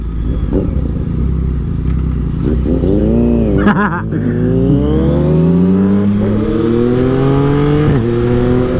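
A tuned 2022 Yamaha MT-09 motorcycle with an ECU tune accelerates hard, its engine note climbing steadily in pitch through the revs, loud and close with constant wind rush.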